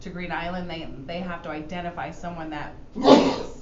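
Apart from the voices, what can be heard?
sneeze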